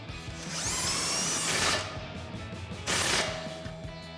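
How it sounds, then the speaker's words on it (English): An 18 millimeter socket, likely on a power tool, tightens an end link nut on a 2011-2014 Mustang strut. Two loud whirring bursts come up close, separated by a brief pause. "we'll tighten that down with our 18 millimeter socket"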